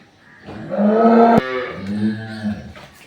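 A calf or cow on a dairy farm in Nilphamari, Bangladesh, gives one long, loud, close moo that breaks off abruptly, followed by a lower, softer second call, with no talk over it.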